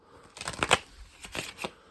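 A deck of playing cards shuffled during a magic trick, a few quick papery riffles over about a second, close and clear with no talk.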